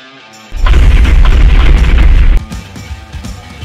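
A loud booming blast in a video game, likely gunfire in a forest setting, erupts suddenly and rumbles for about two seconds before cutting off into quieter clatter.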